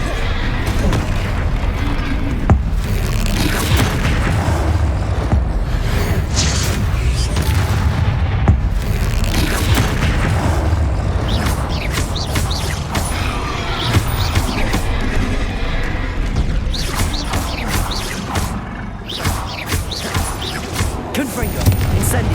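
Spell blasts from Confringo and Incendio in Hogwarts Legacy on PS5, a continuous barrage of booming, crackling impacts that stays loud and dense throughout, with voiced spell shouts mixed into the fray.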